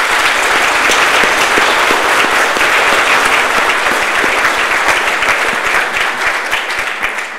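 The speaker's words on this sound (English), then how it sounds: "Let's give them all a round of applause." An audience at a college staff awards ceremony breaks into sustained applause, dense loud clapping from many hands that holds steady for several seconds and then tapers slightly.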